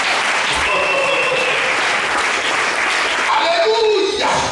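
Church congregation applauding and cheering for Jesus during a French-language Sunday service, a steady, dense wash of clapping and cheers that fills the room for the whole stretch.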